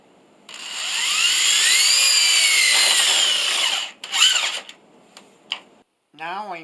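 A power drill whines steadily for several seconds driving 1.25-inch square-drive pocket hole screws into a wooden tabletop, then stops, followed by a couple of short bursts of the drill and brief handling noises.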